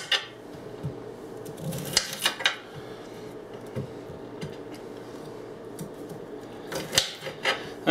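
A knife chops vegetables for a stir fry on a board, giving a few irregular sharp taps and scrapes over steady kitchen background noise, with faint clatter of utensils.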